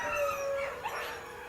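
Rescue dogs howl in a brief drawn-out tone that holds steady, then wavers and fades, with a few overlapping voices close by.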